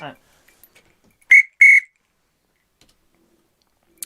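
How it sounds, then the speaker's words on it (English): A bingo caller gives two short, sharp, shrill blasts on a whistle, loud and close, with near silence around them. "Oh, I can't find my whistle. Where's my whistle? Here it is."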